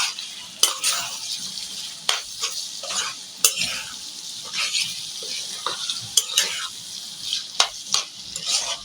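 Cumin seeds tempering in hot oil over a home kitchen stove send up a loud sizzle, broken by repeated sharp scrapes and clinks of a spoon stirring against the pan.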